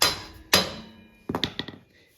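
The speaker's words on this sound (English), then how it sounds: "Maybe need a hammer." Sharp metallic hammer taps on the drive sprocket of a Honda-powered go-kart: two strong ringing strikes followed by a quicker cluster of four or five lighter taps, close and clear.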